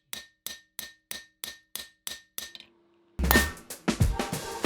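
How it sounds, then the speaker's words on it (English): Eight sharp metallic hammer blows strike a steel knife blade at a steady rhythm to knock off a stamp, each ringing briefly; after a pause a louder burst of clattering, clanking metal follows. "use a hammer to remove the stamp and start again"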